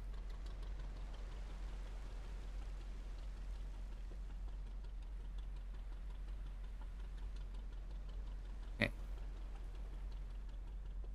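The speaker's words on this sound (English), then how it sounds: "this freaking engine is insane" Engine of a long-line fishing ship running at sea: a low, steady drone throughout, fairly faint and even, with a single sharp click near the end.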